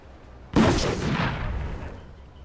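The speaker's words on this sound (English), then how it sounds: "Grenade!" A grenade blows up in the video game We Happy Few, one sudden loud close blast that rolls off into a long decaying rumble.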